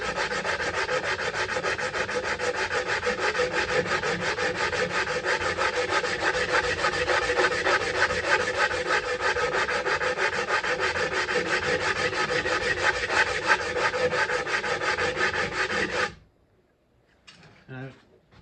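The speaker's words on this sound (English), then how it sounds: "I go all the way around the bowl with 60 grit, and then I move to 100 grit" Coarse 60 grit sandpaper on a cork-faced pine block rubs steadily around a wooden bowl rim, a loud continuous rasping scrape for about sixteen seconds before stopping, followed by a few faint handling knocks.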